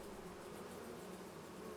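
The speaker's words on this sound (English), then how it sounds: "Oh, the bees are going well." Steady, dense insect buzzing from bees in Farming Simulator 25, a continuous droning hum that stays even and moderately close for the whole stretch, with no voices over it.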